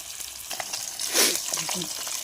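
Large fish pieces frying in hot oil for macher kalia, a steady close sizzle with a brief louder hiss burst in the middle and faint stirring clicks.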